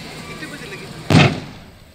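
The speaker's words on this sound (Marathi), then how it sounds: "एक एक करून ट्रकमधील सर्व सिलेंडर फुटू लागले" A gas cylinder in a burning truck in Pali, Rajasthan, bursts in a single sharp, loud blast that then fades slowly over a murmuring background.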